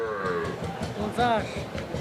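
A Sahiwal Sindhi breed calf lowing at a busy rural cattle market in Mirganj, Nilphamari, with one short moo rising over steady crowd chatter and background voices.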